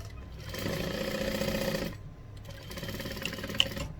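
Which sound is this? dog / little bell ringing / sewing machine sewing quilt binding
sewing machine sewing quilt binding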